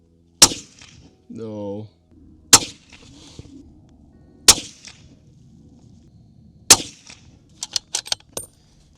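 Sharp, loud rifle shots from a Sig Cross .308 firing Nosler ammunition ring out four times at roughly two-second intervals, with a brief mechanical scrape between the first two and a quick burst of clanks at the end.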